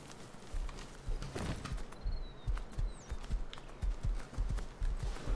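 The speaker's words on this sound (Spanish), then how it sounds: "Uy, un caballito." Horse hooves clip-clop at a steady walking pace in the survival video game Rust, a regular run of close, distinct hoofbeats with no talk over them.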